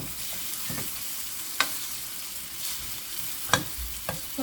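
Zucchini pancake batter frying in a heated oiled pan, a soft continuous sizzle punctuated by a few sharp spoon clicks and scrapes, with no speech.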